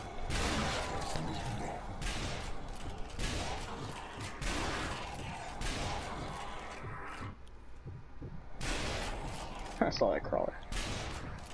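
Gunfire from the zombie shooter Zombie Army Trilogy, played in close quarters inside a cathedral: repeated loud shots and bursts crowd the scene, with players talking over them throughout.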